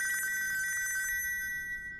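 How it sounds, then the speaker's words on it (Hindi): A mobile phone rings indoors with a bright electronic ringtone, a rapid repeating warble for about a second before it stops, moderately loud with no talking over it. "अबे तेरा फोन बज रहा है, बहरा हो गया क्या?"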